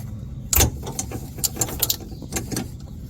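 Twisting a headlight bulb counterclockwise out of a 2016 Nissan Altima headlight housing gives a few sharp plastic clicks and ratcheting snaps, close up, spaced unevenly over a few seconds with no talk.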